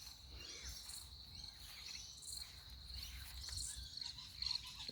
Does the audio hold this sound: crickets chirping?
yes